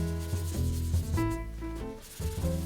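A guitar's paint finish is flatted back by hand in small circular motions, a soft, close rubbing and sanding sound with short repeated strokes and brief pauses.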